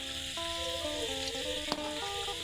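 Pork frying in a pan over low heat gives a steady, even sizzle throughout, with a single sharp click near the end and no voices.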